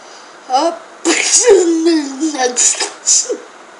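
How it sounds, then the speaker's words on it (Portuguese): A sharp, close sneeze in the game Kogama bursts out, followed by a short vocal reaction and more sniffly, breathy sounds. "Nossa, que espirro."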